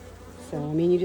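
Honey bees hum close by during an inspection of a Langstroth hive, one insect's buzzing rising suddenly and holding steady, loud and near, over a quiet background.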